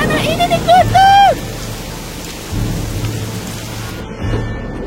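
Thunder rumbles over steady heavy rain in an animated mountain story about a shepherd of the clouds, loud and close, with a voice crying out briefly at the start.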